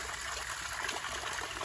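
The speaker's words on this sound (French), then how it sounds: "Ensuite donc on a la fameuse cascade hein, avec le bassin." Water pours steadily down a decorative cascade into a basin, part of an outdoor winter illuminations display, giving a continuous hissing rush with no voices.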